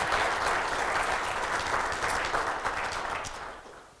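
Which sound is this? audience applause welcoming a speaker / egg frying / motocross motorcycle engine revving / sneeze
audience applause welcoming a speaker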